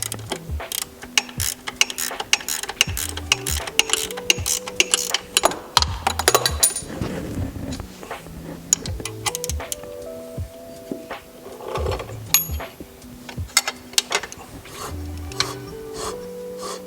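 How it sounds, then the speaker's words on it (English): Bolts holding a brake caliper and rotor and a bearing housing on a Timbersled belt-drive unit are tightened with a ratchet, giving rapid clicking bursts and metallic clatter in short repeated runs, close and fairly quiet. "I'm going to go ahead and tighten up the 4 bolts that hold the caliper and the brake rotor"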